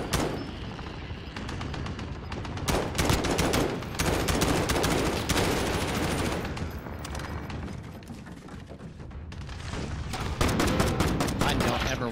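Rapid gunfire from a weapon in Call of Duty: Modern Warfare, loud sustained bursts of shots with brief gaps, dense and continuous across the whole stretch.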